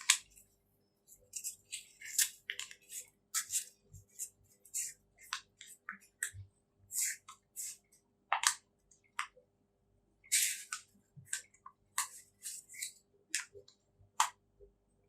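A sheet of paper is rolled by hand into a cone, giving close, crisp crinkles and scattered dry rustles in short bursts separated by near silence.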